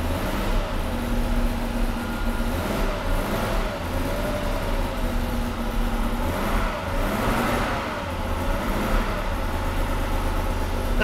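A smoky, rattly Audi 80 engine runs steadily in a continuous low rumble with a slight rise in revs, heard up close without anyone speaking.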